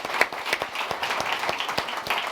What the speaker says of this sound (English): another big round of applause for Nicole and Jackie